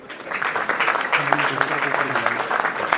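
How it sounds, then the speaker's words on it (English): Audience applause fills a hall at an entrepreneurship and innovation conclave, a dense, steady patter of many hands with a voice talking over it throughout. "Let's give him a big round of applause."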